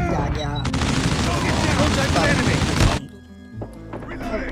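A machine gun rattles in rapid sustained bursts in Call of Duty Mobile for about three seconds, loud and close, then cuts off, leaving quieter game sounds and a voice speaking.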